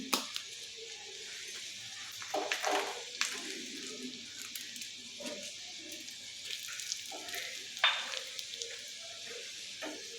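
Dried red chillies and garlic frying in hot oil for a dahi tadka, giving a low, steady sizzle with occasional stirring scrapes and small bursts. No one speaks.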